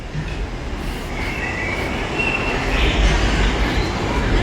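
A Disneyland theme park train rumbles past at a distance, a broad steady roar with faint squealing overhead, continuous for the whole stretch.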